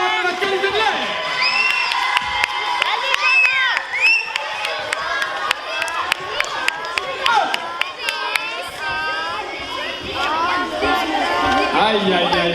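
Audience of children at a stage show cheering and shouting, with high excited voices, squeals and scattered claps, loud and lively throughout.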